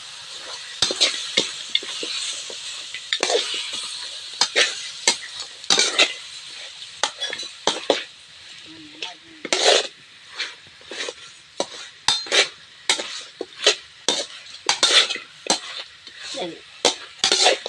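Mutton with turmeric frying in a pan, a steady sizzle broken by repeated sharp scrapes and clinks of a ladle stirring the meat, close and busy.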